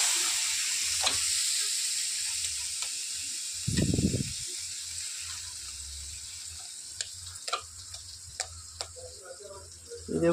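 Butter melting in a pan to make homemade ghee gives a steady, thin high hiss throughout, broken by a few faint ticks and pops and a brief low thump midway.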